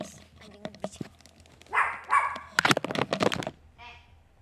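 A dog barks several times indoors in a sharp cluster of loud yips, followed by a fainter bark, with someone talking before and around it.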